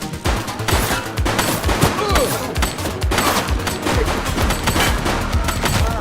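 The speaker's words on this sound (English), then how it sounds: "She's shooting!" Rapid bursts of gunfire ring out from a shooter in a police video game, dense repeated shots layered over a busy, loud game soundtrack without pause.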